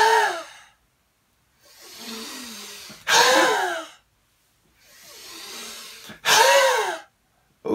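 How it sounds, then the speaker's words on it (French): Forceful diaphragmatic yoga breathing: two cycles of slow, soft inhalations each followed by a sharp, loud exhalation with a vocal rasp, close and alone without talk. "c'est de travailler toujours cette respiration, mais avec une force qui va se travailler avec le diaphragme"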